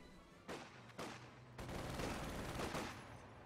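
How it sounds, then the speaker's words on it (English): An MG34 machine gun lays down suppressing fire in the Company of Heroes 2 strategy game, heard as quiet, distant bursts of rapid shots that swell into a sustained rattling volley. "We got suppression from the MG34."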